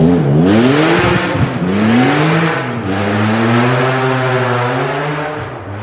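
A Ford Escort rally car speeds past on a rally stage, its loud engine revving hard with the pitch rising and falling as it passes close by, then continuing at high revs.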